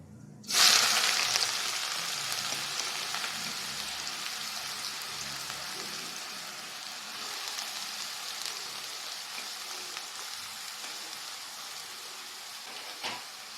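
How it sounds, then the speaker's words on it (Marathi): Finely chopped onion dropped into hot oil with cumin bursts into a loud sizzle, then settles into a steady crackling fry that continues alone. "थोडंसं जिरं आता यामध्ये आपण बारीक चिरलेला कांदा टाकूया"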